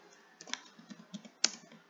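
Light, uneven keystrokes on a computer keyboard, about a dozen soft taps and clicks in a quiet room, with one sharper key press near the end.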